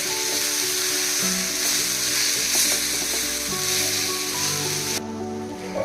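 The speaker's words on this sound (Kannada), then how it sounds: "ಇದನ್ನು ಸ್ವಲ್ಪ ಚೆನ್ನಾಗಿ ರೋಸ್ಟ್ ಮಾಡ್ಕೊಳ್ಬೇಕು" Grated coconut masala roasting in a pan for a homemade chicken curry, a loud, dense steady sizzle with a constant hum throughout, no voices.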